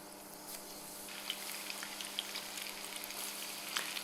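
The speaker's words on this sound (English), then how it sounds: "make sure your oil is the right temperature, and then slowly just drop your popcorn in 1 piece at a time" Small popcorn chicken pieces frying in hot oil, a quiet continuous bubbling sizzle with scattered sharp crackles and pops rising above a low hum.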